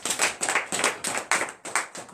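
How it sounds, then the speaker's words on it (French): Congregation at a morning prayer service in Comè, Benin claps in acclamation, a loud, steady run of rhythmic group claps in even beats, with no talking over it. "Donnez l'acclamation à Jésus."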